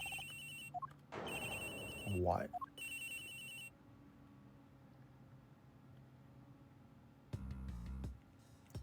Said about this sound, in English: It's gotta be the victim's cell phone.